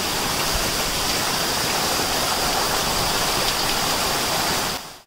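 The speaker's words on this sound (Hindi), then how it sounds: "ऐसे झरने देखते देखते मे भी किसी झरने के नीचे थोड़ा भीग भी लेंगे।" A waterfall beside a railway track at Matheran roars steadily and close as a broad, unbroken rush of falling water, then cuts off abruptly at the end.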